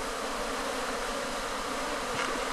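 Dense, steady buzzing of honey bees swarming close around an open hive during comb inspection in Ghana, a continuous droning hum with no voices.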